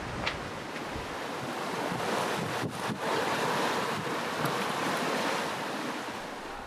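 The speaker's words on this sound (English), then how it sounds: "the wind and waves are coming this way" Wind and waves at sea off Mallorca while sailing, a broad steady rush of surf and gusting wind noise on the microphone that runs throughout with no talking.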